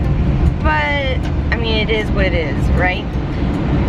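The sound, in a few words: car driving noise heard through open windows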